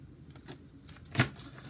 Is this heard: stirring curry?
no